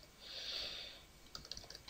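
Brief, quiet run of computer keyboard typing while writing JavaScript code, a short burst of rapid key clicks following a soft breathy noise, close and faint with no talk.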